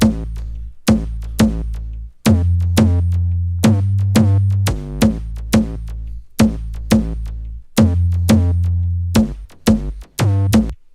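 Deep, booming 808 bass notes that sustain and shift pitch, locked to punchy kick and conga drum hits in a steady groove, loud and alone.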